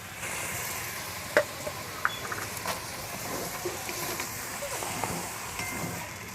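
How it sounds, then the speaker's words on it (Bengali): Mixed vegetables for Bengali shukto sautéing with spices and a splash of water, a soft steady sizzle and hiss running throughout with a few light clicks of a spatula, fairly faint and close. "সমস্ত মশলার সাথে সবজিগুলো কষে নেব যেন তলায় না লেগে যায়, তাই জল দিয়ে দেবো হালকা।"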